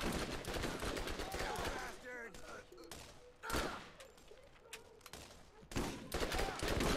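Gunfire in the Borderlands video game, rapid bursts of loud shots in clusters with brief gaps between volleys, fading to quieter scattered shots before a final sharp burst.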